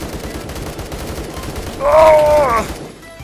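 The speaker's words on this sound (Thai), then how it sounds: "เหมือนมีคนยิงปืนทางนี้" A short burst of rapid AK-12 gunfire in Roblox Phantom Forces erupts midway, loud and sharp, over a low background rumble.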